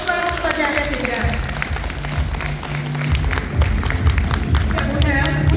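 An audience applauds as the national director is invited onto the stage, a dense wash of clapping under steady voices from a presenter and the crowd, rising slightly toward the end.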